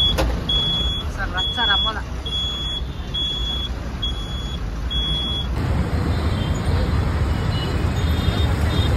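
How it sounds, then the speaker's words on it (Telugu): Road traffic in Hyderabad, heard from inside a bus: a steady engine and traffic rumble, repeated beeping tones, and people talking over the noise. "హైదరాబాద్ ట్రాఫిక్"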